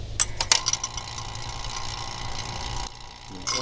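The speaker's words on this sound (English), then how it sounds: "Then I'm going to turn the vacuum pump on." Vacuum pump hooked up to a car's A/C system, running with a steady mechanical hum and rattle after a few clicks as it starts, close and moderately loud, cutting off briefly near the end.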